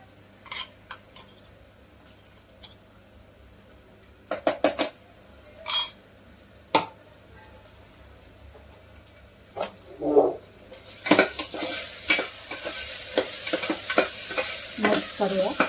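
Chilli, garlic and ginger are stirred into browned onions in a pan. A spoon clanks sharply against the vessel in scattered knocks, then a loud, bright sizzle swells and keeps crackling under continued stirring.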